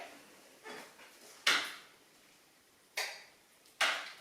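Kitchen drawer being handled to fetch a spoon while serving homemade vegetable soup, a few sharp clacks and a soft slide, close and quiet, with no talking.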